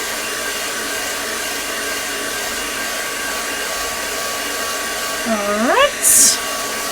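A hair dryer blows steadily on a craft page, a constant close whirring roar that runs almost the whole time. Near the end a person says a couple of words and there is a brief squeaky rising sound.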